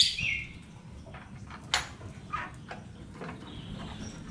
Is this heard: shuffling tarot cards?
no